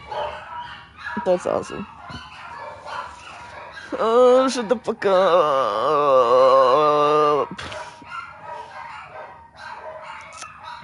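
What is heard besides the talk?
dogs barking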